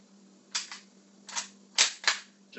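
Series of sharp unsuppressed high-powered rifle reports from Wolf 150-grain steel-case full metal jacket ammunition, about five cracks at irregular intervals, fairly distant and moderate in level over a steady low hum.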